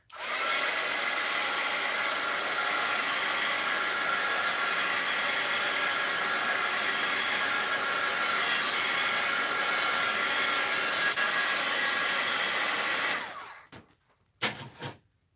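A hair dryer blows steadily on paint on an artwork, a loud, constant whooshing roar running for about thirteen seconds before switching off, followed by a couple of brief knocks.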